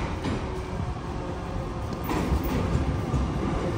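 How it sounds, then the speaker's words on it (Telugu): A small metro train of four or five cars in Armenia rumbles along with a low steady roar and rattling from inside the carriage, growing slightly louder toward the end. "ఆర్మేనియా దేశంలో మన ఫస్ట్ మెట్రో రైడ్."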